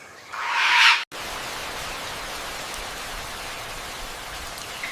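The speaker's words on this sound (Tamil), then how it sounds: "மழை, இந்த காட்டின் உயிர் நாடி." Steady rain falls on the Amazon rainforest, hissing evenly in a dense, continuous wash, with a brief brighter burst at the start before the downpour settles.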